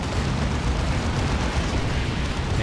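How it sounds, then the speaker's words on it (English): Explosions pound the Purgation squad in Dawn of War 2, a continuous dense roar of overlapping blasts and rumbling booms with no clear gaps, loud and close, no voices. "Big booms on the Purgation."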